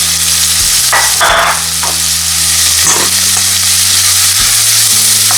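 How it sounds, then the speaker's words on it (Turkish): Onions sauté in plenty of butter in a pan with a constant close sizzle, broken by a few scraping stirs and utensil clinks and a low background hum. "Biraz soğanlarımı kavuracağım. Tereyağısı biraz bol olsun şöyle."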